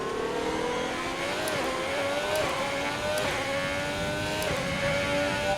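A Formula 1 race car engine in F1 2020 screams at high revs, a continuous sustained whine that climbs and briefly dips with gear changes, loud and close throughout.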